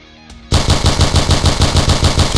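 Rapid automatic L86LSW gunfire in the Point Blank video game, a loud burst of evenly spaced shots starting abruptly after a brief click, continuing in a fast steady rhythm.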